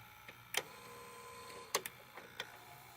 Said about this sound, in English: when I press forward search, the pinch roller will disengage